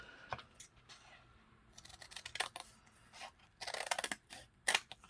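Scissors snipping through material in short, separate cuts, close and fairly quiet, with a few quick clusters of blade closes between brief pauses.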